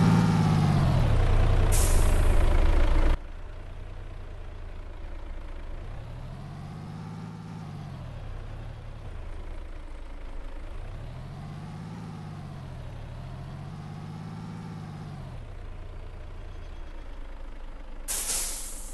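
Truck in a driving game at a fuel station: a loud air-brake hiss bursts at the start, then the engine drones with repeated rising and falling revs, and another sharp hiss comes near the end.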